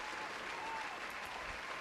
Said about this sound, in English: Boney, let's have applause for Boney.